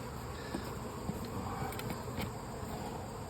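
Honeybees buzz around an open hive during an inspection, a dense continuous insect drone that sits close and steady, with a few brief sharper touches and no talking.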